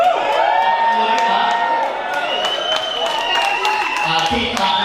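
A comedy club audience claps and cheers, with whoops and loud applause rising over a voice talking through it, the crowd noise sustained across the whole moment.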